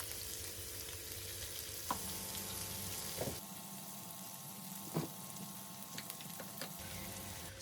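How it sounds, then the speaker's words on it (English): Chicken with peppers and carrots sautés in a pan for Jamaican sweet and sour chicken, a steady, moderate sizzle broken by a few soft utensil knocks. "While this is being sauteed for about a minute or two"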